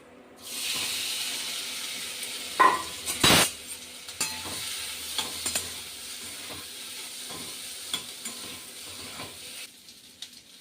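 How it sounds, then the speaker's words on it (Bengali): Stored potato filling for samosas is being reheated in a wok, giving a steady sizzle with scraping stir strokes, a couple of sharper clanks near the start, and no talking. "আলুর পুরটা আমি স্টোর করে রেখেছিলাম একটু গরম করে নিচ্ছি কড়াইয়ে দিয়ে"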